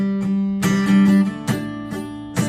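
A few rough, uneven guitar chord strums with hard attacks and short ringing between them, close and fairly loud, with no talking.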